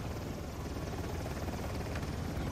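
A helicopter hovers right overhead in a railyard in the video game Uncharted: The Lost Legacy, a steady low rotor throb and engine roar that stays loud and constant throughout.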